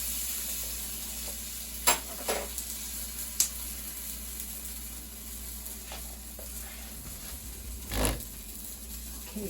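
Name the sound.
bean and cheese quesadilla sizzling in frying pan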